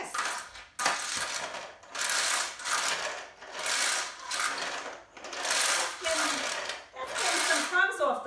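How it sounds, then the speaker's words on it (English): A household vacuum cleaner runs over a floor, its roar swelling and fading in a steady rhythm of about eight back-and-forth strokes, fairly close and with no talking. "I have a vacuum."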